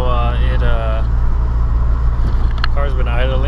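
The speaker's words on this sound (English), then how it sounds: "car's been idling. Idling pretty good." Mitsubishi Evo X engine idling steadily, a continuous low hum close by with a person talking over it throughout.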